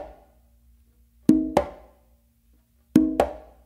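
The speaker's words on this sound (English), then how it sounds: "you're going to do an open again on the mid drum" Two paired conga strikes, an open tone on the mid drum followed quickly by a close slap on the main drum, repeated twice, close and clear with nothing else around them.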